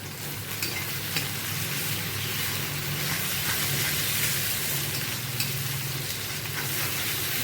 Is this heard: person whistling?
no